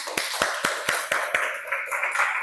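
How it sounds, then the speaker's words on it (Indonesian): Classroom clapping in rhythm: about six sharp, evenly spaced claps from a small group of pupils, fairly close, then trailing into a looser scatter of lighter claps. "Oke, berikan tepuk tangan."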